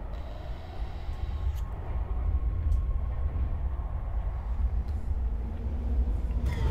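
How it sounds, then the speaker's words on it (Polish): Inside a moving subway car in Resident Evil 3, a steady low rumble and rattle carry on throughout, with a few faint metallic clanks rising above the drone. "Wnętrze wagonu metra."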